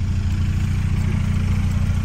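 Car engine running outside, a loud steady low idling drone with a regular pulsing beat, no voices.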